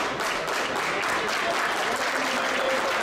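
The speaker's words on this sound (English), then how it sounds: "Old Evil is clapping with glee." Steady clapping from a crowd at a live professional wrestling show, a dense continuous patter that holds at an even level throughout without a break.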